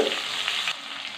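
Onions and green chillies hit hot tempering oil in a pan and fry with a loud, steady, close sizzle that eases slightly partway through, with no talking.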